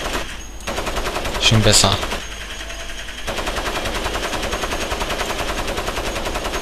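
Rapid automatic weapon fire in the video game Crysis, a fast continuous rattle of shots with a brief pause, loud and close, while someone speaks briefly over it.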